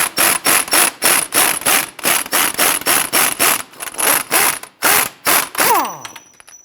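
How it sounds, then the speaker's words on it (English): Ratchet on an 18mm socket loosening the lower shock bolt on a 2011-2019 Ford Explorer: a loud, close run of about fifteen rapid rhythmic clicking strokes, a short pause, then a few more strokes and a light metallic ring. "Using an 18mm socket here on the bottom of the shock,"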